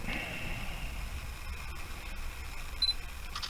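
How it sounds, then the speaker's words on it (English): A faint mechanical click of a Sony H70 digital camera shutter near the end, over steady low background hiss. "and we get a picture"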